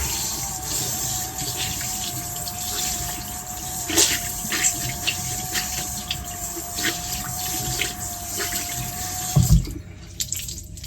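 Tap water runs steadily into a sink while an item is rinsed beneath it, a constant close splashing hiss with small clatters near the end.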